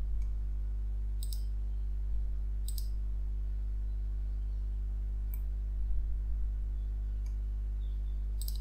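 Computer mouse clicks while working in Creo Parametric software: about six faint, crisp single clicks at irregular intervals over a steady low electrical hum.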